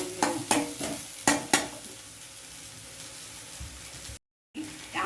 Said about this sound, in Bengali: ছানার একটা জল ভাব থাকে সেটাকেই আমি শুকিয়ে নিচ্ছি